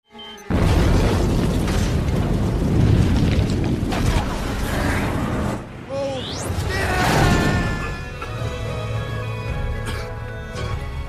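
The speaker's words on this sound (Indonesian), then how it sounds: "melempar sebuah bom dan terjadilah ledakan yang menghanguskan pabrik ganja tersebut" A loud, rumbling bomb explosion destroying a marijuana factory in the film Pineapple Express (2008), with crashing debris, followed by a second rolling blast, close and heavy over several seconds.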